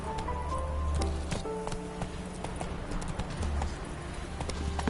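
The horse Roach gallops in The Witcher 3, steady clip-clopping hoofbeats close and continuous over a low rumble and faint background sounds.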